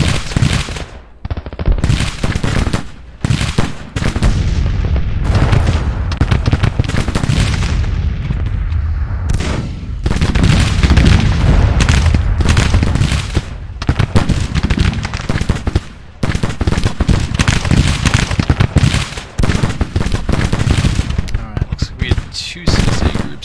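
Dense gunfire and artillery from a Civil War battle video game set at Shiloh: continuous rattling musket volleys and heavy booms, loud and close, with brief lulls and faint voices mixed in.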